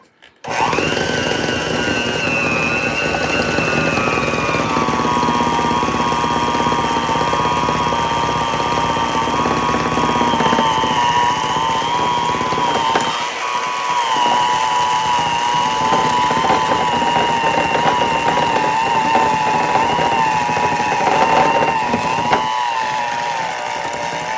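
An electric hand mixer whirs steadily and close as its beaters churn a thick peanut butter pie filling in a bowl, running almost nonstop for the whole stretch with a slight drop in the middle and no talking.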